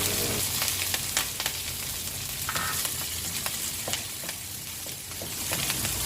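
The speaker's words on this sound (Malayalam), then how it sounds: "ഒരു 4-5 പച്ചമുളക് ചെറുതായി അരിഞ്ഞത് ചേർത്ത് അതും കൂടി ഒന്ന് വഴറ്റിയെടുക്കുക" Chopped green chillies and garlic sautéing in a pan, a steady crackling sizzle with scattered pops and the occasional scrape of stirring, close and fairly quiet.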